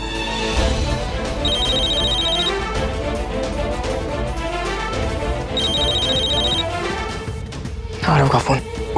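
A phone rings during a call, two bursts of a repeating electronic ringtone against a dense musical background, with a voice briefly speaking near the end.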